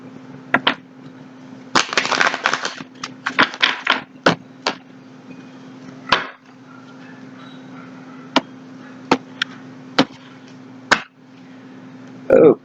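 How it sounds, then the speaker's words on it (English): Tarot cards are shuffled by hand during a reading, giving a crisp riffling flutter followed by scattered sharp taps and snaps of cards, close and fairly loud over a steady background hum. "One more shuffle."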